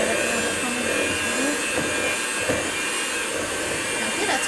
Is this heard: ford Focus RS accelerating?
no